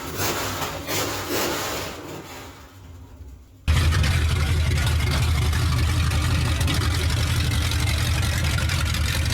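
A Chevrolet Suburban engine idles loudly and steadily with a low rumble after a quieter stretch of scraping sounds, running continuously to the end.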